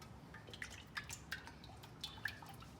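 Vegetable or canola oil pours into a cooking pot, heard as faint, close liquid drips and light splashes in a quiet room.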